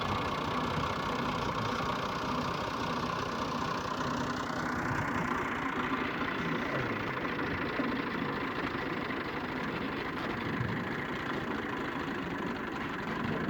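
A tractor engine runs steadily nearby with a continuous mid-to-low rumble, close and loud throughout, with no talking.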